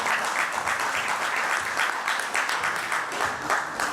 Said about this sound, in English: You can at least clap for that.